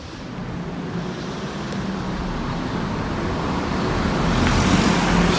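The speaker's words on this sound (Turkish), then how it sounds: "Şehir merkezine giden otobüslerin kalktığı yer bir tane geldi gördüğünüz gibi" A city bus arrives at the Minsk airport stop, heard as a steady, close engine rumble over broad traffic noise. The sound grows slightly louder toward the end, with no talking.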